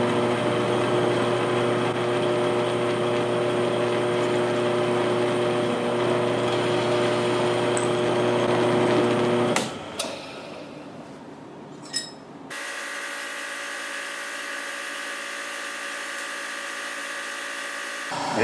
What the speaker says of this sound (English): I just have one hole left to tap.